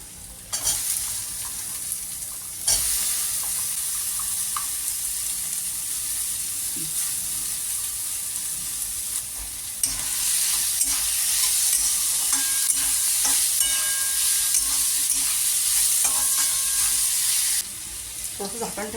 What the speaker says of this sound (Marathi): तेलात चांगली फ्राय करून घ्यायची. गाईज याच्यामध्ये आपण कापलेले बटाटे जे आहेत ते बटाटे आपण टाकूया.